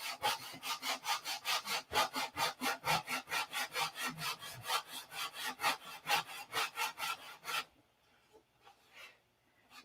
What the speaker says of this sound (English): sanding and sanding and sanding